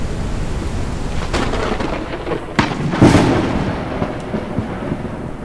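Thunder rolling through a lightning storm in the video game Forever Skies, a low rumble under a steady hiss of rain with a couple of sharper cracks and one heavier boom midway.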